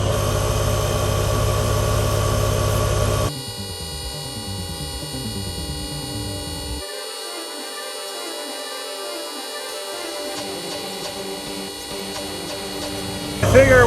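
A GOBEGE heavy duty air compressor inflating a tire runs with a steady buzzing motor drone that shifts pitch partway through, continuous and fairly loud, with a brief louder burst near the end.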